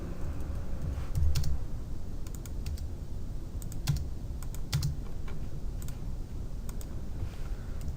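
Computer keyboard typed on while cleaning up a drawing in AutoCAD, scattered soft key clicks in small clusters over a quiet background hum, close and fairly faint.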